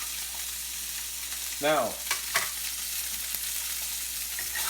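A rockfish fillet sizzles while pan searing, a steady close hiss of frying oil throughout, with a brief stir or scrape and a short spoken word partway through.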